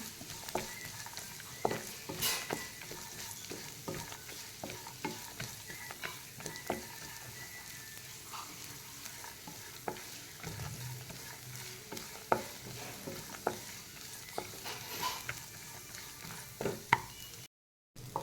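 Moth beans (matki) being dry-roasted in a pan and stirred, with a steady rattling patter of beans and repeated scraping strokes of the spoon, close and fairly quiet, no talking.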